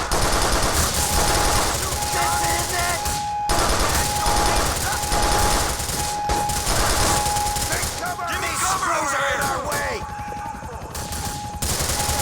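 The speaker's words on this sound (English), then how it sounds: "The automatic pistol has come in quite handy." Rapid automatic pistol fire in GTA IV: The Lost and Damned, loud bursts of gunshots in repeated volleys over a busy game soundscape with shouting voices mixed in.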